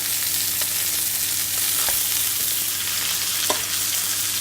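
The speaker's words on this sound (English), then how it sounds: "I just want to colour it up with a little bit of butter. So in goes 20 grams of butter. Let the butter foam" Twenty grams of butter foams and bubbles around a rib eye steak in a hot pan, a loud, steady, close frying sizzle with a few faint clicks and no voices.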